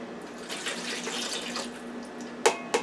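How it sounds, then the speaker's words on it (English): Saved broth pours into a pot, a close continuous splashing trickle of liquid, followed by two sharp knocks near the end. "So I'm going to put my broth that I saved."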